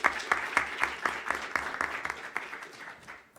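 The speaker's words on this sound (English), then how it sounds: "Thanks, give a applause." Audience applause at a student association electoral debate, a modest round of clapping with some distinct rhythmic claps standing out, moderately quiet and thinning toward the end.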